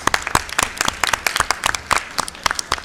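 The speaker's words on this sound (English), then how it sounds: "A round of applause for our panelists" A close, lively burst of audience applause for the panelists at an Internet Governance Forum workshop, with many sharp individual claps crowding together over a few seconds.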